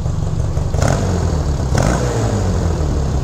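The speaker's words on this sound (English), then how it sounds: "Fantastic exhaust note." A 1967 Honda CA77 305 Dream motorcycle idles and revs nearby, its twin-cylinder exhaust giving a loud steady low throb with two brief rises in pitch, alone with no talking.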